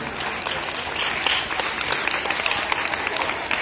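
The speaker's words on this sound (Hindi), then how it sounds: "इसको कहा जाता है तालियां, अभी भी कम है लेकिन।" Steady crowd applause at a school prize ceremony, many hands clapping in a dense, continuous wash with scattered sharper individual claps standing out, moderately loud throughout.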